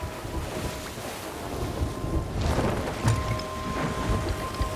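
A thunderstorm with rain at sea in Sea of Thieves, steady heavy rain and wind with low rolling thunder rumbling beneath, loud and continuous without talking.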